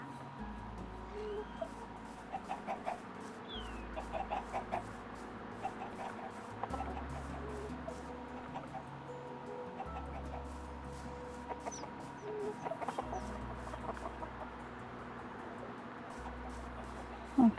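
Chickens in a Minecraft-style video game clucking intermittently, small scattered clucks over game music and quiet background, moderately faint throughout.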